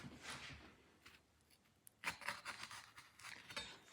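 A knife cuts through the peel of a ripe plantain in short, faint scraping and slicing strokes, several quiet cuts close by with brief pauses between them.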